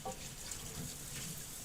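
Pasta water from an earlier boil pours into a pan during a group cooking night, a steady, close splashing stream of liquid with no talk.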